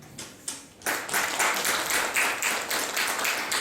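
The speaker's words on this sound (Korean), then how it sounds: "나오실 때 박수로 환영하겠습니다" A church congregation at a Sunday morning service claps to welcome a missionary, the applause starting after a few scattered claps and then running steady and fairly close for several seconds.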